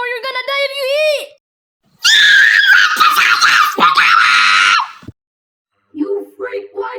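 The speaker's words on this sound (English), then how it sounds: "why did you scream like that?" A person screams loudly in two long, piercing bursts separated by a short silence, followed by a brief stretch of voice.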